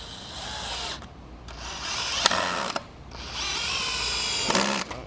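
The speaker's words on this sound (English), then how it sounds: "You think this DeWalt is gonna have what it takes? No pre-drilled holes or anything." A DeWalt cordless drill drives screws into free scrap wood with no pre-drilled holes. It comes in several loud, close bursts of motor whine separated by short pauses, with no voices.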